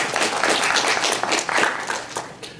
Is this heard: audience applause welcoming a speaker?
yes